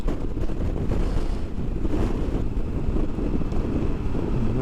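Strong, gusty wind buffets the microphone on a Honda motorcycle ride, a dense, loud, low roar that continues without a break.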